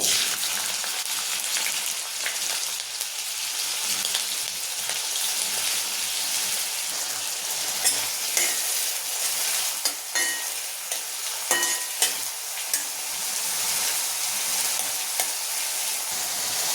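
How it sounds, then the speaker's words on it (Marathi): Chopped onion frying in hot oil for a dry bitter gourd dish, a loud, continuous hiss of sizzling with occasional spatula stirs and scrapes, no voices. "तेल तापलं, कांदा टाकून घेते"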